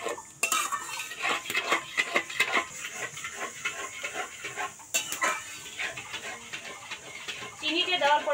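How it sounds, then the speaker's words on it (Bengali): A utensil clatters and scrapes against a pan as raw mango pulp is stirred, with steady close metallic strokes and a dog barking in the background. "এইভাবে নাড়তে থাকা লাগবে।"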